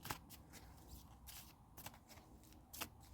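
A deck of cards being shuffled: several quick riffling bursts spaced through a short, quiet stretch, close and crisp, with no talking.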